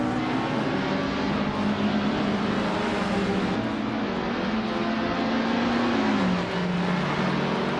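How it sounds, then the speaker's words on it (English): A classic 1968 Honda S800R SC racing car engine in a video game, holding a steady, droning high-revving note with slight pitch shifts throughout. "Scuderia Veloz is leading with a classic 1968 Honda S800R SC."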